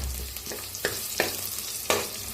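Whole spices roasting in a pressure cooker with cumin, sizzling steadily while a spoon scrapes the metal in three or four sharp strokes, close and fairly loud, no voices.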